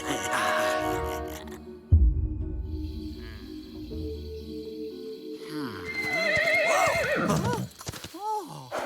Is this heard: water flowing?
no